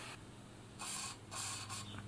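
Two short bursts of aerosol lubricant spray hiss close up into the bearings of an Elna Air Electronic sewing machine, the first longer than the second, with a quieter puff trailing after, over a faint low hum.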